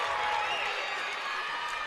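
Fans at a high school girls' volleyball championship game cheering and applauding, a dense, steady wash of crowd noise filling the gym.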